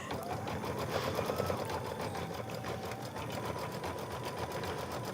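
A computerized embroidery machine stitches decorative stems for a quilt block, giving off a steady, fast rhythmic needle clatter with a mechanical hum that runs on without pause and sits close and clear.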